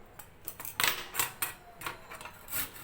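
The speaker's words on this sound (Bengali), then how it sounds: "এবার আমি ছোট গ্রেটার দিয়ে গ্রেট করে নিচ্ছি।" A carrot rubbed against a small hand grater in a kitchen, giving quick, irregular rasping strokes, close and fairly quiet, with short scratchy bursts about every few tenths of a second and no talking.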